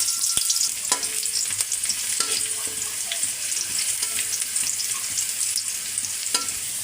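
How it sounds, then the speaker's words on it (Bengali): Chopped onion sizzling and frying in soybean oil in a home kitchen, a steady close crackle with occasional sharp pops and stirring, no voices. "এই পেঁয়াজটা একটু লাল লাল করে ভেজে নেব"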